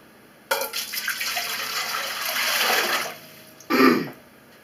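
Two quarts of water pour into a canner in a steady splashing stream for about two and a half seconds, followed by a short, louder gush near the end.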